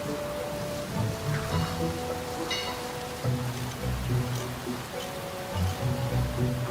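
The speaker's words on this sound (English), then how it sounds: "the wind blew and the rains pounded down" Rain falls steadily in a continuous hiss. Low tonal sounds drift underneath it, and the whole scene stays fairly quiet and distant.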